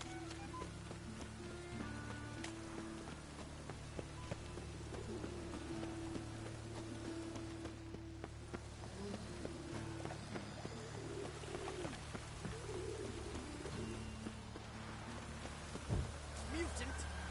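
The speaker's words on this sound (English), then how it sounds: "No use doing any work in this rain." Steady rain pours down in the Witcher 3 game world, a constant even hiss of drops on surfaces that holds for the whole stretch, with faint bird calls and murmured voices beneath it.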